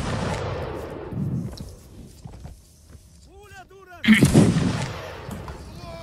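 Musket and artillery fire in a Napoleonic battle game, heavy booming gunshots and rumbling reports at the start and again in a loud burst later, with a voice speaking in between.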